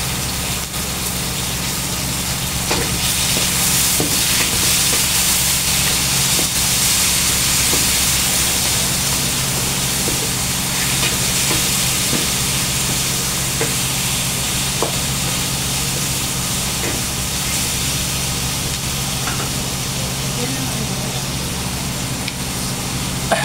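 Pork frying in a pan while cooking afritada, a steady broadband sizzle that holds loud and continuous throughout with faint clinks, and no talk over it.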